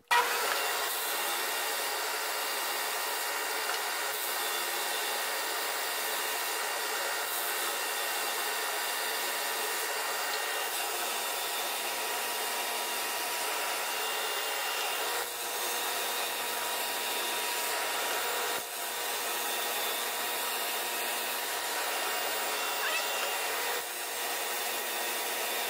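A Flatmaster sander works along the bowed edge of a wooden board, giving a continuous loud, even whine and whoosh of abrasive on wood that holds steady for the whole stretch, close by with no talk.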